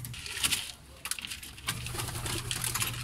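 Racing pigeons peck at feed while waiting for homing birds to return, with soft scattered tapping and pattering bursts and low cooing nearby.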